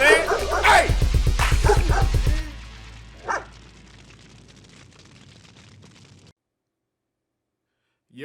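A dog barks in a rapid run of sharp, close yips for about two seconds inside a building while someone shouts at its owner. One more faint bark follows, then low room noise before silence.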